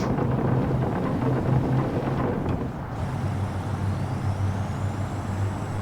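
Video game car with a manual gearbox and turbo, its engine a steady low droning rumble, loud and close, with a short dip mid-way as if shifting, then carrying on. No talk.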